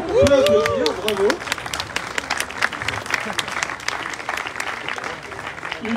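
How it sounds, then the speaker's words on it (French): Audience at a basketball club's season launch evening applauds, with scattered sharp claps and a steady crowd patter after a speaker's short announcement in French. "On peut l'applaudir, bravo."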